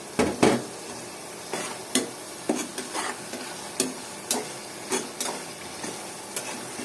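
Spices frying with a large tomato in a pan, a steady sizzle broken by repeated scraping stirs of a spatula against the pan, close and fairly loud, with no talking.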